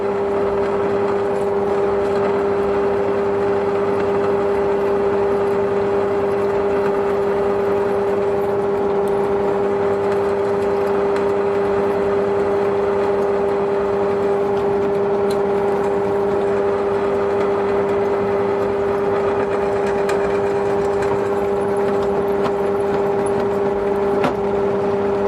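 A drill press running at about 500 RPM, boring through metal with a steady, constant mechanical hum and a strong sustained tone. It is loud and continuous for the whole stretch, with no talking.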